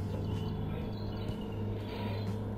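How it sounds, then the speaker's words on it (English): Low engine rumble of a truck pulling away in the game Plane Mechanic Simulator, a steady droning hum held at moderate level for a few seconds with no talk. "Oh, it's the truck driving off."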